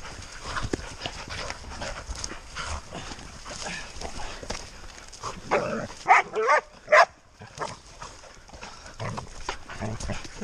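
Hunting dogs panting and moving about close by during pig-hunting bailing practice in New Zealand, with a few short sharp barks or yelps in the middle amid scuffling noise.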